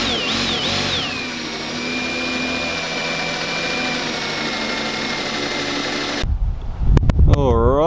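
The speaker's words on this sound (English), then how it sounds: "we are drilled and tapped" A power drill whines steadily while drilling and tapping a metal canister for an RB25DET turbo, its pitch dipping as it loads up, then cutting off into a few short clanks and a voice.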